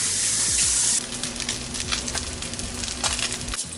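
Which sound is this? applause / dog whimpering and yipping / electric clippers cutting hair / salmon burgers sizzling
salmon burgers sizzling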